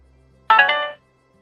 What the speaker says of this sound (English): Oh, guys, that's my phone.